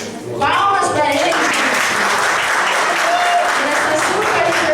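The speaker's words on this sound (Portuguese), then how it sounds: "Palmas para ele." Audience applause after a children's storytelling performance: a short voice gives way to loud, dense clapping that holds steady and close for several seconds.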